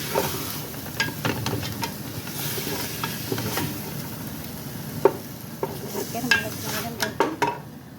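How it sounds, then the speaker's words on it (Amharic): Meat fries in a pan with onion and garlic, giving a soft sizzle with repeated scraping and stirring strokes in an irregular rhythm, fairly close and moderately quiet. "ስጋችንን ከሽንኩርቱ ከነጭ ሽንኩርቱ ጋር ከስጋው ጋር እንደዚህ እንጠብሰዋለን።"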